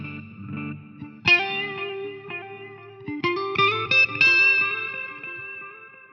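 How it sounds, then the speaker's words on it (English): Electric guitar played through a flanger effect on a Quad Cortex modeler, giving sustained chords and picked notes with a sweeping, swirling shimmer and some reverb, moderately loud and with no talk. "We've got our flanger."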